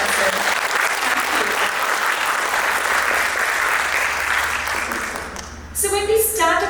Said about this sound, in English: So, a round of applause again to energize the dancer.